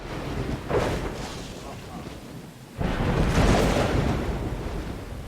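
A thunderstorm rumbles in the video game Dawn of Man: a distant thunder roll, then a louder, sustained crash of thunder with rain-like hiss that gradually fades, no talking.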